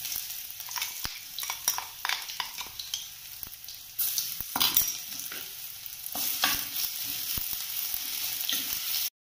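Garlic, ginger and chili paste sizzling in a hot pan with bay leaf and five-spice seeds, the frying crackle continuous while a utensil stirs and scrapes in irregular knocks.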